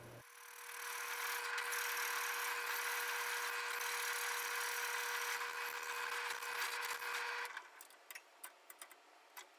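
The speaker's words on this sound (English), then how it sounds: "Here I'm getting ready to drill the through hole with the 1/4 inch drill" An electric drill with a 1/4 inch bit runs steadily through a hole in a forged saw frame, a close, continuous whirring with a faint tonal hum, then stops and gives way to a few sharp clicks and knocks.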